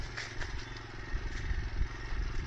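A motorcycle engine churns at a low, rough, steady note while riding an off-road hill track, with clattering bumps and crackling from the rough ground mixed in.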